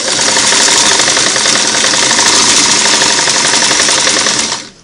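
A Singer Model 338 sewing machine running a single-needle straight stitch along a seam, a loud, fast, even mechanical chatter that runs nonstop and then winds down at the end.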